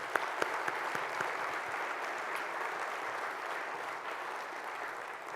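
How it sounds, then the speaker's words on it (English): A conference audience at a logistics summit applauds the keynote panel, a steady wash of many hands clapping at moderate distance, fairly soft and even from start to finish with no talk. "A round of applause for our panel."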